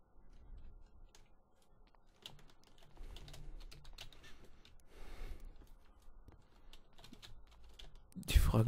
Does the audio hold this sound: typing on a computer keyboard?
yes